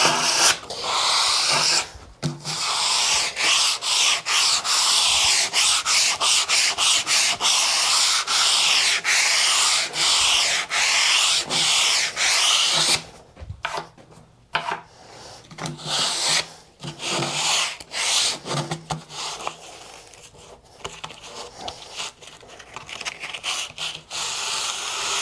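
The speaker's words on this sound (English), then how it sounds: "I'm gonna go over this with 80 grit sandpaper" Hand sanding a wooden speaker cabinet with 80 grit sandpaper, steady close rasping strokes in a continuous rhythm, briefly pausing and thinning midway before resuming.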